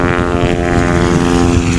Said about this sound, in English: 1953 Cessna 180, and he's off.